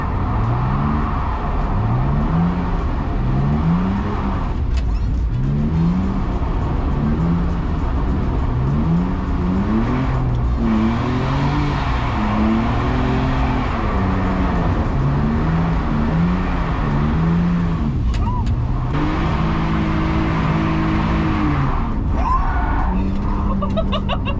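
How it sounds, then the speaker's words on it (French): A drift car revs hard in a field, the engine climbing and dropping in repeated surges with bursts of tyre skid and scrabble, loud and close throughout; a voice briefly cries out. "Donc tu vois que la voiture elle reprend direct le grip"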